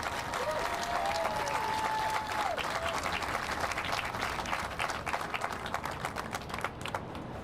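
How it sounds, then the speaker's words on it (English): Sustained applause from a crowd at a naturalization ceremony, dense clapping held at full level for several seconds while a brief tonal whistle or voice rises above it. "Let's have a round of applause for the countries represented here today."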